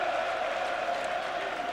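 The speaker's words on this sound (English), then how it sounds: "You can hear the crowd clapping." Millwall home crowd applauding during a January 1993 league match against Brentford, a steady broadband wash of clapping heard from a distance, with a commentator's voice faintly underneath.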